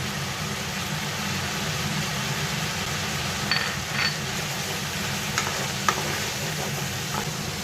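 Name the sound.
grated ginger and cumin powder frying, being stirred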